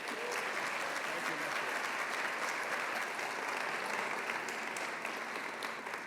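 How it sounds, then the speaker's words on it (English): A loud, sustained round of applause from a breakfast forum audience for a guest named Norm, steady and dense clapping at constant volume from start to finish. "I need to hear a really loud round of applause for Norm."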